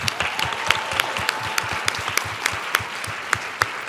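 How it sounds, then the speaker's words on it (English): Audience at a women's pitch competition clapping for the finalists, a steady bed of applause punctuated by sharp, close individual claps standing out at irregular intervals. "So let's give them all a round of applause."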